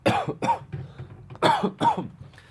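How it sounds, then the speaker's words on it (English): Several close coughs in short bursts, a pair followed by a quieter rasp and then two more hard coughs, with brief pauses between. "I still got a little bit of cough."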